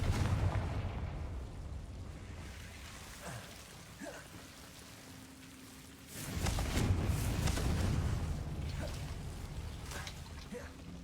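Confringo fire spell explosions in Hogwarts Legacy, a loud rumbling roar of crackling blasts over constant game noise that swells sharply midway and stays heavy to the end.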